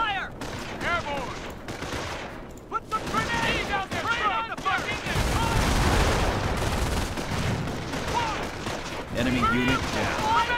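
Rifle and machine-gun fire in a Company of Heroes battle, a dense, continuous fusillade of sharp cracks with booming impacts, mixed with shouted voices and radio chatter throughout.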